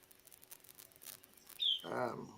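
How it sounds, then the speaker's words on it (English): A pet budgie, a small parakeet, gives a brief bright chirp near the end, close and fairly clear, after a quiet stretch of faint background hiss and noise. "I can hear a budgie."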